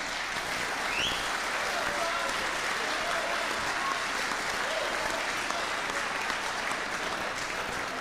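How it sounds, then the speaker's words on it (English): A dinner audience at a Hall of Fame induction event claps continuously, a dense, even wash of applause filling the room for several seconds. "So give yourselves a round of applause."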